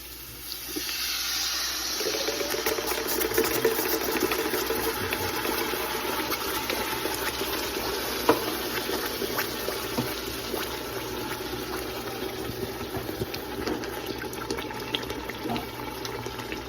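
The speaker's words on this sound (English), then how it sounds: "Now we're going to go ahead and add 4 cans of Cento all-purpose crushed tomatoes." Four cans of Cento all-purpose crushed tomatoes pour into a sauce pot over browned meat, making a steady, thick liquid glugging and splashing that runs for a long stretch.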